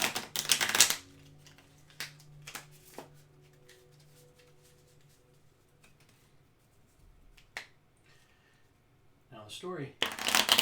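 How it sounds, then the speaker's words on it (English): Tarot cards shuffled in a few quick riffling bursts at the start, middle and end, with snappy shuffles in between and a brief spoken phrase over a quiet room. "let's do some shuffling."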